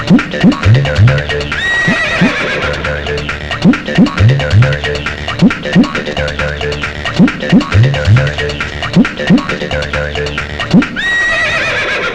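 A horse whinnies loudly several times in a repeating pattern over a throbbing background, with faint hoof clops between the calls and no speech.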